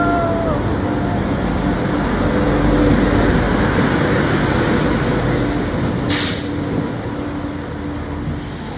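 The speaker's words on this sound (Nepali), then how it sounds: "हाम्रो ट्रेन चाहिँ बल्ल बल्ल आइपुग्यो" A train pulls into a station with a steady, loud rumble throughout and a sharp hiss burst partway through, like brakes releasing air.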